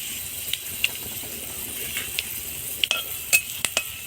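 Dry chillies, kalonji and panch phoron sizzle in hot mustard oil, a steady soft hiss with a few sharp ticks and clinks from stirring against the pan, close by with no talking.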